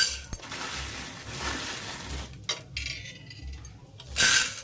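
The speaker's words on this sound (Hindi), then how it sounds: "फिर मैं इसमें अंदर पॉपकॉर्न डाल देती हूँ।" Popcorn kernels are poured into a metal pot, rattling in quick scattered clicks and clatters close up, with a louder pour of hard grains near the end.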